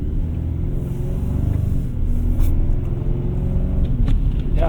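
A 2026 Chevy Silverado 1500 Custom with the 2.7L engine accelerates hard, its deep engine note rising and rumbling loudly from inside the cab, steady and close with no talking.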